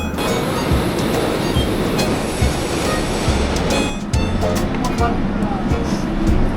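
A Brazilian subway train rumbles steadily close by, with rolling wheel noise and brief screeches, while people talk over the din.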